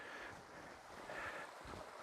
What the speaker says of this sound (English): We've got a brown but babbling brook